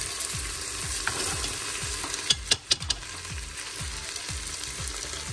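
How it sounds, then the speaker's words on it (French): Onion frying in a pot for lentils sizzles steadily and close, with a few sharp utensil knocks partway through and a faint regular ticking underneath, no voices. "ça cuit, comme vous pouvez voir, l'oignon a commencé même à dorer un petit peu"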